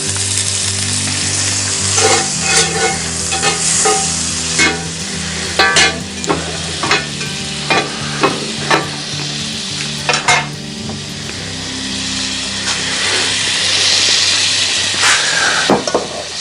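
A big chunk of Kerrygold butter and a splash of olive oil sizzle loudly in a hot pan over a sportsman's grill, a continuous close frying hiss marked by regular metallic clinks and scrapes of a utensil against the pan.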